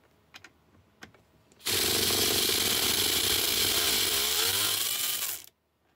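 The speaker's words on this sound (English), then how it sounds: "It's a mini impacting ratchet wrench." A mini impacting 3/8-inch drive air ratchet wrench with a reactionless clutch runs in one loud, steady burst of about four seconds, its hiss and buzz rising abruptly and cutting off, after a few faint clicks.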